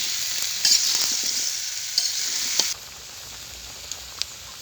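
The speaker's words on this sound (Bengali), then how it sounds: "তবে ভালোভাবে নেড়ে চেড়ে নিতে হবে।" Winter vegetables stirred into frying spice masala, a loud close sizzle with scraping stirs that suddenly drops to a quieter steady frying hiss partway through.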